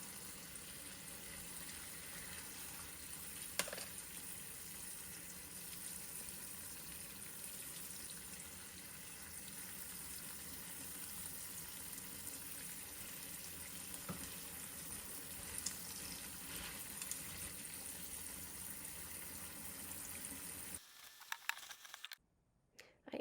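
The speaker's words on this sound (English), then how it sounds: "I ended up putting these in a bowl with water to further rinse them as I picked through them" Dry beans being rinsed in a bowl of water, a steady soft watery patter and swish running continuously at low volume, with a brief louder clatter near the end.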